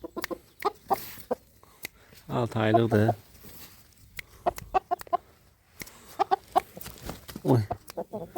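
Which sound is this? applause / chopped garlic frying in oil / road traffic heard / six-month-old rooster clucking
six-month-old rooster clucking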